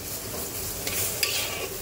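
Taro crackles and sizzles steadily in a pan as a spatula stirs it, a close, continuous frying hiss with scraping strokes throughout.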